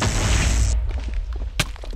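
A Minecraft explosion booms loud and wide with a rumbling low end and broad hiss that cuts away after about three quarters of a second, followed by quieter thuds and one sharp crack.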